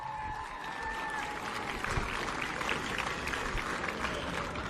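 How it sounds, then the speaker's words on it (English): A crowd applauds the new champions, Box Hill United and Heidelberg United, at the 2025 NPL Women's Victoria grand final, steady dense clapping throughout with a brief whistle-like tone early on. "can I get a round of applause for our new champions, Box Hill United and Heidelberg United"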